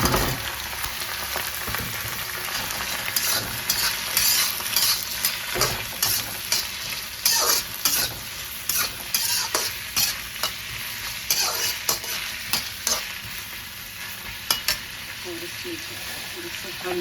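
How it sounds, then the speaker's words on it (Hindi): Potatoes are stirred into fried onions in a pan, giving a continuous sizzle with repeated scraping stirs at an uneven rhythm, close and fairly quiet. "प्याज भून गया है और इसमें डाल रही हूँ आलू।"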